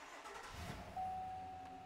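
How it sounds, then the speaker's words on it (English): A truck engine cranks briefly, with a short burst of starter grinding, then catches and settles into a steady idle marked by a sustained whine, heard close and alone without talk. "We're actually gonna crank the vehicle and see if our inlet air temperature comes up"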